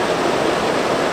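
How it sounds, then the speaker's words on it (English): A river waterfall in central Portugal, a loud, dense, steady rush of falling water heard up close with no other sounds. "The waterfall we see"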